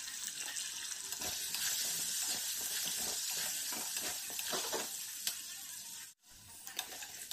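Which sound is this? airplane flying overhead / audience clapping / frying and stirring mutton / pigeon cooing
frying and stirring mutton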